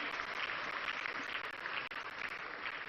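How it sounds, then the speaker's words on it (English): An audience applauds at a national economic forum, a soft, distant patter of clapping that stays steady for a few seconds. "Another round of applause, ladies and gentlemen."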